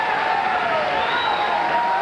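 Bowling crowd at the 1986 Greater Los Angeles Open cheering and applauding after a strike, a dense steady roar of many voices and clapping heard up close, with a commentator's voice running over it.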